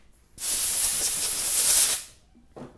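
Compressed air hisses in one steady, loud blast of about a second and a half while bolts are blown off during a Suzuki Reno / Daewoo Lanos thermostat replacement, then a brief shorter puff follows.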